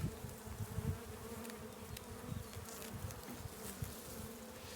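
A dense, steady hum of many honey bees buzzing close by around a hive during a colony inspection, continuous and droning with no voices.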